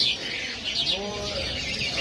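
A myna bird at a bustling Baghdad animal market gives repeated bright chirps and whistling calls, close by over a busy background with other birds faintly audible.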